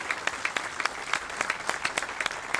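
Applause from a crowd, steady clapping throughout with sharp individual claps standing out, moderately loud and without talk.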